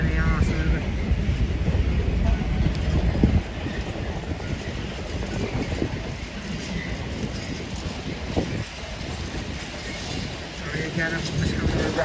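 An LNER passenger train rumbles through Doncaster station at moderate distance, with a steady roar of wheels and rails that eases partway through, along with wind buffeting and a person talking over it.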